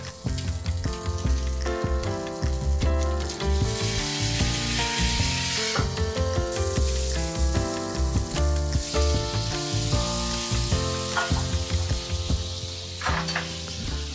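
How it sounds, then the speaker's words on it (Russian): Meat glazed with broth sizzles loudly and continuously on a hot cast-iron griddle, with occasional stirring and utensil clatter, while music plays underneath. "давайте повторим наш эксперимент с бульоном. То есть попросту лакируем мясо."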